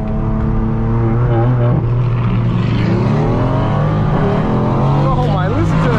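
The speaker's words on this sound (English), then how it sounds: "listen to the AMG" A Mercedes-AMG engine passes by loud and close during a supercar street drive, a sustained low exhaust drone with shifting harmonics as it revs, with someone talking over it.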